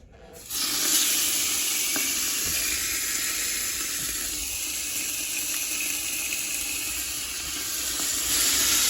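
Four or five pieces of bacon dropped into a hot pan, a sudden burst of hissing sizzle that settles into a steady, strong frying crackle, close by with no voices.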